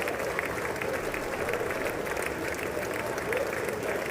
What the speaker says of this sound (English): the applause is so long.